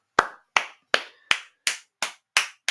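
Crisp hand claps of applause, eight sharp close claps at a steady, unhurried rhythm with no other sound between them.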